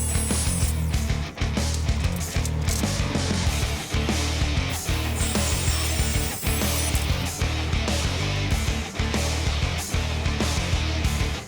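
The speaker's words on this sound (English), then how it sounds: "So the 3/8 inch Everbilt Home Depot chain lasted 26 seconds of cutting." Loud, continuous grinding and rasping of a 3/8 inch Everbilt Home Depot security chain being cut, a steady harsh mechanical roar lasting the whole stretch with brief dips, no voices.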